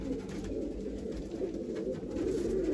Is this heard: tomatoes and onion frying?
no